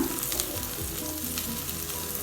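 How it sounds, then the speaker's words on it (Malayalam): Butter melting in a pan as ghee is made at home, a steady close sizzle with soft crackles and a few faint stirring scrapes, no voices. "അങ്ങനെതാ കംപ്ലീറ്റ് ബട്ടറും മെൽറ്റായി കഴിഞ്ഞിട്ടുണ്ട്."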